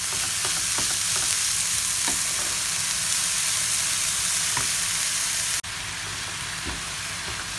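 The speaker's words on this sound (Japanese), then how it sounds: "まずごま油で炒めます" Finely chopped butterbur stir-fried in sesame oil, a continuous soft sizzle with scattered scraping taps of a utensil, then a slight drop in level partway through.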